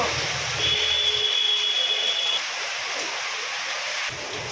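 Heavy rain pours down in a steady, dense hiss with a faint tone briefly over it, continuous and fairly loud for the whole stretch.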